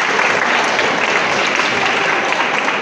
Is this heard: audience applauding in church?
yes